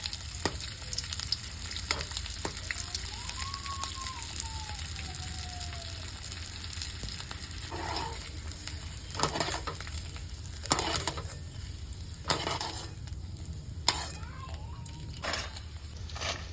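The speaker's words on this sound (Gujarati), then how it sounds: "હવે ચાલુ કરી દીધું છે ગુંદર તળવાનું" Edible gum frying in groundnut oil in a pan on a gas stove, a steady close sizzle with scattered crackles and bursts of stirring clatter, and a voice speaking briefly over it.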